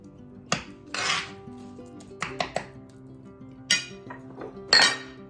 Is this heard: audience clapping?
no